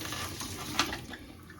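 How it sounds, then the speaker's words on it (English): Water pours out of an electric kettle being cleaned of calcium buildup: a steady, soft splashing stream runs throughout, with one brief brighter splash near the middle. "So I'm gonna pour this out now"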